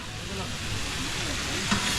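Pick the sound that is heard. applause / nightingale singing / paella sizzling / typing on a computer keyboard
paella sizzling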